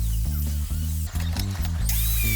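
A biscuit cutter bites slots into pallet wood for a small outdoor table, giving loud, close, stuttering motor bursts with a harsh buzzy rattle and brief dips between cuts.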